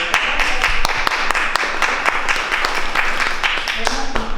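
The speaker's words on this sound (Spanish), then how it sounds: "Le damos un aplauso a la" Audience at the close of a Spanish-language biology lecture on Mexican flora breaks into applause, a dense patter of clapping with sharper individual claps close by, loud and continuous.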